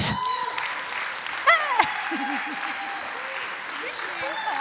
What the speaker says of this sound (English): Please give a big round of applause for the brilliant Hayley Knight.